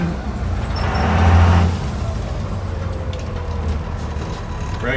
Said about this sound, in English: Brakes are working.